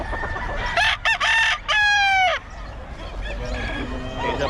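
A gamecock stag, a two-year-old pumpkin sweater bull stag, crows loudly and close in a couple of strained bursts followed by a long drawn-out call, with softer clucking and background voices afterward.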